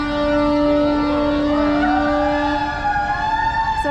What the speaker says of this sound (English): So these fire engines go off a lot.